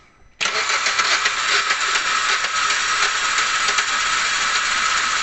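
A flood-damaged 2012 Kia Rio with a manual transmission cranks and catches, its engine then running steadily and loud for several seconds, close by with no talk over it.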